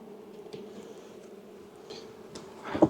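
Honey bees hum at a beehive in a soft, steady low drone. Near the end comes a brief louder rustle and thump of handling.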